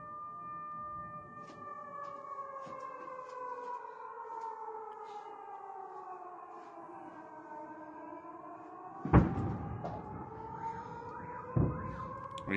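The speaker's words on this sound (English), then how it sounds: "we hear the air raid siren sounding over the city" A long wailing air raid siren drones steadily over Sevastopol with slowly shifting pitch, then two sharp, heavy booms cut through near the end.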